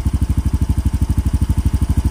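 A Yamaha Mio M3 motorcycle engine idles close by in a steady, rapid chugging pulse, loud and even with no voices over it.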